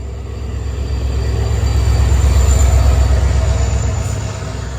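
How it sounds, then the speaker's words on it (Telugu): A train rolls past on the adjacent track while riding over a bridge between Secunderabad and Siddipet, a loud, steady rumble of wheels and cars swelling in the middle and easing slightly toward the end, with faint squeal and no talk. "పక్క ట్రాక్లో ఏదో ట్రైన్ అయితే వస్తుంది."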